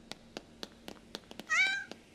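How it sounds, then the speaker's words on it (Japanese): A single clear cat meow rises and falls in the Yomawari 3 trial version horror game, set in a school science room, over a steady rhythm of soft footstep clicks. "猫。"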